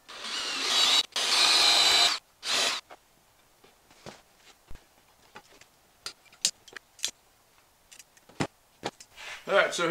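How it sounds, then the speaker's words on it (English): A cordless drill drives screws into wood while a skoolie pullout couch with a leaf table is built. Loud, close whirring bursts run for about two seconds, followed by a shorter burst and then scattered light ticks and clicks. "Use this drill while that battery's charging."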